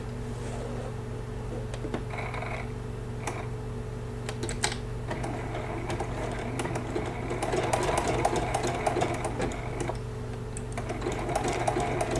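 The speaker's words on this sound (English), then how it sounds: "you could put on your free motion foot and speed up the smaller details of this applique and just do a straight stitch" A sewing machine stitches a teddy bear applique for a baby quilt, its rapid mechanical chatter running in close bursts over a steady motor hum with short pauses between runs.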